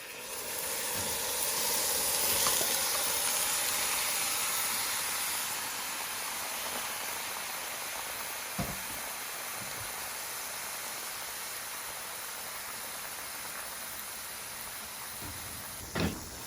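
Oxtail meat going into a hot pot of browning, giving a steady loud sizzling hiss that slowly eases over time, with a few faint knocks and clatters.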